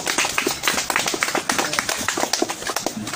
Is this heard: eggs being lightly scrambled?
no